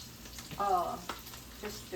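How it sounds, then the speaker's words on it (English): A pot of bacon, mushroom and chicken chili bubbles and sizzles at a gentle simmer nearby, a continuous low hiss with a brief scrape or stir partway through. "I'm going to let this simmer for like, I don't want it to boil, but I do want it to simmer"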